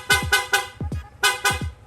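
A Yamaha Sniper 155 motorcycle fitted with an aftermarket loud horn honks in quick repeated bursts, short blaring toots in two rapid groups, loud and close.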